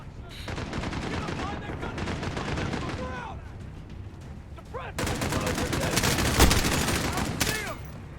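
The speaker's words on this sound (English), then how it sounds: "I have no idea where I'm getting shot from." Gunfire in the Call of Duty: Modern Warfare campaign, dense bursts of rapid automatic shots cracking in close succession, with a short lull midway before heavier sustained fire and a few louder blasts.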